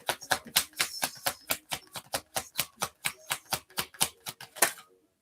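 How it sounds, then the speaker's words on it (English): Tarot cards shuffled forcefully by hand, about twenty sharp, evenly spaced riffling bursts in a steady rhythm, close and crisp, ending in silence. "I have to shuffle really with lots of power, almost strength."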